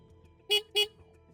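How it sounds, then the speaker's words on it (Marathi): Two short, quick horn beeps sound in succession against a quiet background, like a small scooter's horn at moderate distance. "तितक्यात स्कूटीच्या हॉर्नचा आवाज आला"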